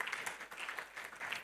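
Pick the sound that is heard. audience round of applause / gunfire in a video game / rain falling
audience round of applause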